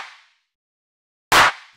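A single sharp, bright clap hit rings out alone, preceded by the fading tail of an earlier one.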